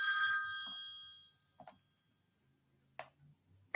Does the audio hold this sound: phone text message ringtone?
yes